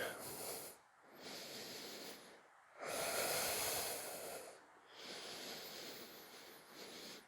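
Deep, audible breaths taken while holding an upside-down yoga inversion on the elbows: slow inhales and exhales as breathy hisses, about four cycles with short pauses between, close to the mic.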